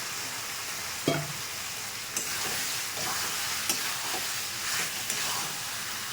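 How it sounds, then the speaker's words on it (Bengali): Fried potatoes stirred into a sizzling spice paste for katla fish curry, a continuous frying hiss broken by several sharp scrapes and clinks of the spoon against the pan. "মশলাটা কষানো হয়ে গেছে, এবার আমি আলুটা দিয়ে দিচ্ছি,"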